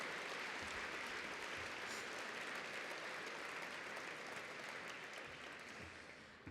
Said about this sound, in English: Let's give those sponsors a big round of applause and thank you.